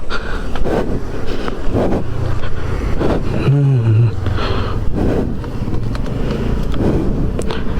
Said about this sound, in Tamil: ஓகேங்க, இந்த வரைக்கும் நம்ம பைக்கு நம்ம கிளம்பலாம்.